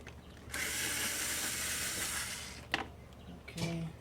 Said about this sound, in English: I'm going to put my electric screwdriver in reverse